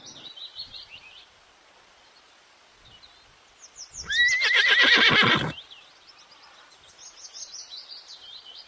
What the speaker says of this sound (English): H. H for horse.